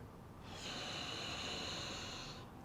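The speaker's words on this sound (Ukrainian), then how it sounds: "вдих." A single deep, slow inhalation through the nose during a kundalini yoga meditation, soft and close, with a steady airy hiss lasting about two seconds before fading.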